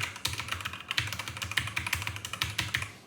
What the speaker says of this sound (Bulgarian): слушайте звука на моята нова клавиатура.